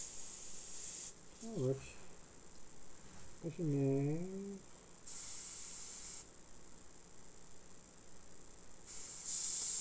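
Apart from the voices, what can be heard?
aerosol spray can spraying onto terrain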